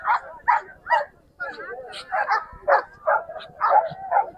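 Injured hunting dogs whimper and yip during a wild boar hunt, giving a run of short, high, whining cries at a steady, close, fairly loud pace with brief pauses.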